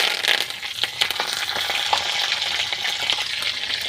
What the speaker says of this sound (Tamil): அடுத்தது கருவேப்பிலை போட்டுக்கலாம்ப்பா.